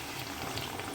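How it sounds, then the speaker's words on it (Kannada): A crab green masala curry bubbling in a pan after water rinsed from a mixer jar goes in, a dense, even boiling and liquid rush, close and soft. "ಮಿಕ್ಸಿ ಜಾರ್ ನೀರು ತೊಳ್ಕೊಂಡು ಹಾಕ್ಕೊಂಡಿದ್ದೀನಿ"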